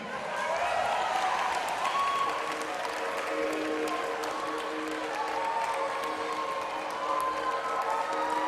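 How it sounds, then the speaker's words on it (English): Pageant crowd at Miss Gibraltar 2019 applauding and cheering, a steady, even wash of many hands clapping with scattered shouts, sustained for several seconds at moderate distance. "So give her a big cheer"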